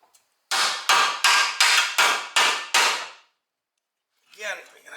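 Seven sharp, evenly spaced ball peen hammer strikes ring out on metal while removing control arm bushings from a 1968 GTO front end, loud and close with ringing decay, followed by a brief burst of speech.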